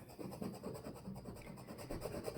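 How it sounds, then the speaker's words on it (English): A scraper tool rubs back and forth across craft vinyl on a Christmas ornament, a close, steady, rhythmic scratching rasp of repeated short strokes, soft and continuous. "I'm gonna place this down and I'm gonna scrape it again"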